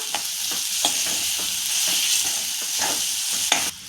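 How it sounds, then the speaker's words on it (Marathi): Garam masala and coriander powder are stirred and sautéed in a hot pan, with a steady close sizzle and frying hiss under scraping spoon strokes. "थोडासा गरम मसाला घालते। थोडी धन्याची पावडर घालते। आणि हे सगळं चांगलं आपण परतून घेऊया।"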